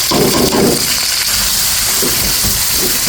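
Chopped onions hit hot oil in a wok for Bengali goat head and neck haleem, giving a loud, steady sizzling hiss that surges at the start and holds without talk.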